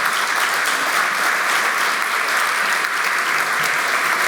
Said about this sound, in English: y'all can clap for Michael.